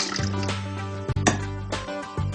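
Rinsed cooked quinoa being strained, water pouring and draining through a sieve in close, splashy bursts with brief gaps between them.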